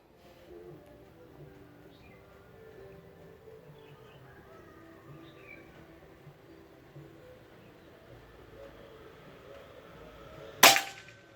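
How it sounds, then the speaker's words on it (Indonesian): A PCP air rifle firing a Hercules pellet outdoors: one sharp, loud crack near the end after a long stretch of quiet ambience with faint birdsong. "Tembakan ke-5 terakhir yang pakai Hercules."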